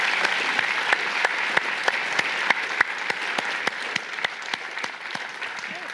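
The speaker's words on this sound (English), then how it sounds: "Please give them a huge round of applause." Audience at an inclusive growth conference applauds a panel, steady dense clapping with a few sharper louder claps standing out, sustained for several seconds without talk.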